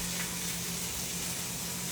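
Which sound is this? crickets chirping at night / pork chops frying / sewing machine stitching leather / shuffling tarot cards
pork chops frying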